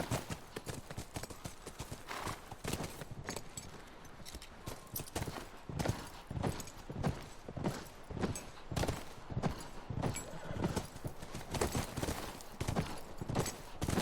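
Horse hooves clip-clop in The Last of Us Remastered, a steady run of sharp, evenly paced strikes close by, repeating throughout against a faint background with no talk.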